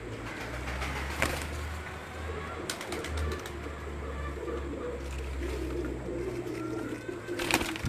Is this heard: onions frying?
no